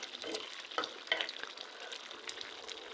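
A vegetable curry of eggplant and cauliflower with coriander leaves cooking in a pan, a continuous soft sizzle with occasional light stirring clicks, quiet and close.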